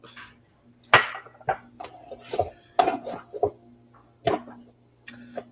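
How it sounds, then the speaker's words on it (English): Sushi rice being mixed with seasoning solution in a bowl, giving scattered light clinks and scraping taps of a utensil against the dish, close and fairly quiet, without talk. "Now we have this lovely sushi rice solution we're going to add, and then just mix it up."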